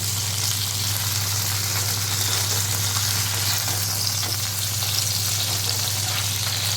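Hilsa fish paturi fries in oil in a pan with a steady, even sizzle and crackle that continues without pause throughout, close and moderately loud, with no talking.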